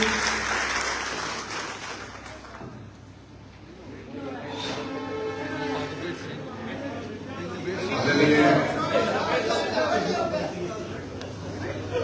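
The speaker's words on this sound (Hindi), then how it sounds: "जोरदार तालियों के साथ स्वागत करें" A rally crowd welcomes a speaker with applause and cheering, a broad, roomy clapping texture mixed with crowd chatter and voices, swelling louder toward the later part.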